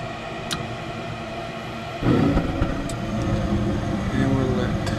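A Trane S9V2 gas furnace with its burners lighting: a low mechanical hum suddenly swells into a louder, steady broadband roar as the flame catches, with faint ticks in the background.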